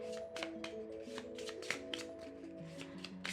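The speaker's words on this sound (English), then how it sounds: "overhand shuffles very well" Soft, rhythmic flicks of a deck of rune cards being overhand shuffled by hand, repeated taps at an even pace over light background music.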